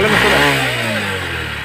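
A motorcycle ridden along an outdoor path by a rider without a helmet. Its engine drones loudly and steadily up close, a continuous rumbling hum with no pauses.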